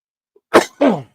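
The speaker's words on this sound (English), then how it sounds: "Sorry for coughing in y'all's ear." Two harsh, close coughs from a man in quick succession, loud and abrupt against otherwise silent surroundings.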